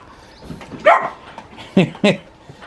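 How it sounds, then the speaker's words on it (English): A dog gives a few sharp barks nearby, two loud ones close together near the end, with some background movement between them. "What you barking for?"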